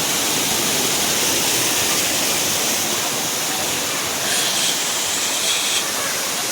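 The second waterfall makes a continuous heavy rush of water, loud and even throughout, with a faint higher hiss rising briefly near the end.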